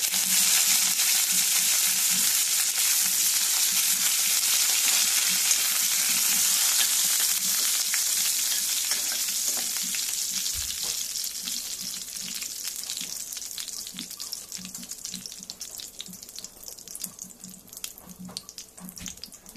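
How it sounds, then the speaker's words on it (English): Curry leaves sizzle and crackle in hot oil while bitter gourd cooks, a steady loud frying hiss that gradually softens and turns into scattered pops toward the end, with no talking. "Now add some curry leaves."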